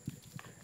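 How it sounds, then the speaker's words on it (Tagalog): A couple of quick hoof clops from a horse, soft and somewhat distant, in a very short snippet. "Kabayo"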